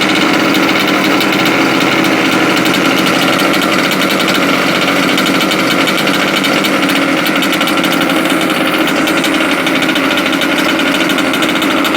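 A Red Cat gas RC truck with a side-pipe exhaust idles in a steady, loud, buzzing hum that holds evenly throughout, recorded up close with no voices.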